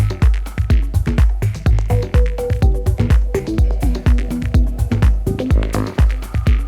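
Punchy drum group groove with bongos and steady kick hits in a tight repeating rhythm, a melodic line weaving through and clashing with the percussion, loud and upfront with no voices.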